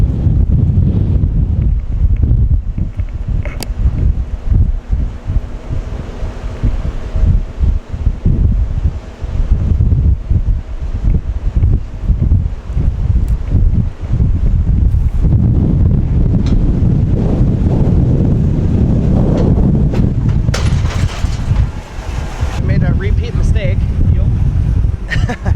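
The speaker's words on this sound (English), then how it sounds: "wind is blowing about 30 miles an hour down here" Strong wind of about 30 mph buffets the microphone beside a farm field on the first day of spring tillage, a loud continuous low roar with gusty rustling throughout and brief moments of talk.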